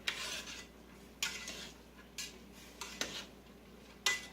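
A spoon scrapes and clinks against a pan while ground beef and brown rice are stirred together in the grease, with intermittent sharp metallic scrapes over a quiet background and no talking.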